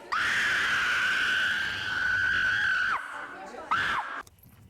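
A girl with Tourette syndrome lets out a loud, sustained high screaming tic lasting about three seconds, followed by a shorter second scream a moment later, set in a crowd of other kids with Tourette's.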